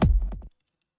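Hard techno kick drum from a Digitakt II, one heavy booming hit with reverb and delay tails fading quickly into silence, loud and alone.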